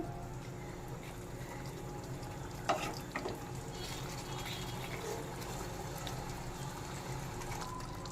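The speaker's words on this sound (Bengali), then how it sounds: "এবার গ্রেভির জন্য কিছুটা জল দিয়ে দেব, দিয়ে আবার একটু মিশিয়ে নেব।" Water poured into a boal fish curry and stirred in the pan: a quiet, even bubbling sizzle with a short clatter of stirring partway through.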